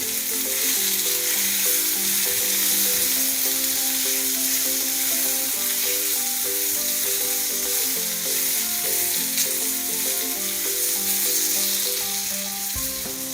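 Potatoes with turmeric sizzle and fry in a pan for a paneer and potato curry, a loud, continuous crackle and hiss with soft stirring scrapes and no talking.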